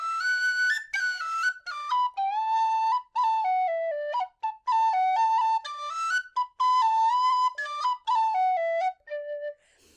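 A Sondery tin whistle, or pennywhistle, plays a lively melody alone and close up, with bright, airy notes that jump between pitches and now and then break or waver from overblowing.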